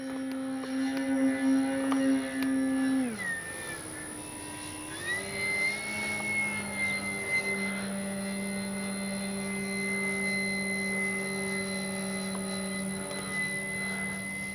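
An electric RC airplane, a 3X Flex RV8 60E, flies with a steady motor whine whose pitch dips and rises as it manoeuvres, then holds a sustained tone, alone without talk.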